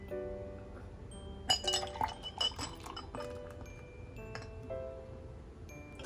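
Glasses clink together in a toast at a solo evening drink at home with Hoegaarden beer, several bright chinks close by against a quiet background, with no talking.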